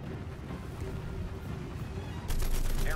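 Guns fire rapidly in a War Thunder battle, a dense rattling barrage of gunfire that holds steady and then grows louder and brighter near the end, with no speech.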